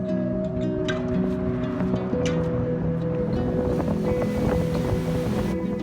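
Pacific Ocean surf at Surfrider Beach in Malibu, a continuous broad wash of breaking waves mixed with gusty wind buffeting the microphone, steady and loud throughout with no speech.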